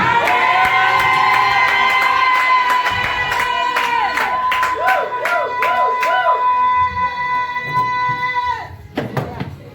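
A church congregation shouts and cheers together during a worship service, loud overlapping voices with whoops and sharp accents over sustained tones, then dropping away abruptly near the end.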